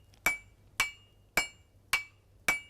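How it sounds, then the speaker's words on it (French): Sledgehammer blows on Damascus steel being forged into a kris blade, five sharp metallic strikes with a ringing tone at an even rhythm about half a second apart, close and clear, with no other sound. "les métaux fusionnent, se métamorphosant sous les coups de masse en un excellent acier damassé"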